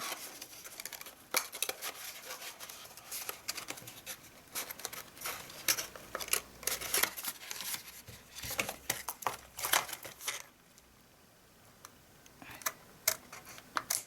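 Scissors snip through card for a handmade gift box in a series of quiet, irregular clicks and crisp cuts, close by with small pauses between strokes.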